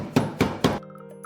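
Three sharp, evenly spaced thuds of a pestle pounding ingredients coarsely in a mortar for Thai shrimp curry, close and solid, followed by a faint ringing tail.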